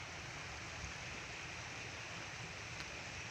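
Seawater floods through a coastal village, a steady broad rushing wash heard at a distance, constant and fairly quiet with no speech.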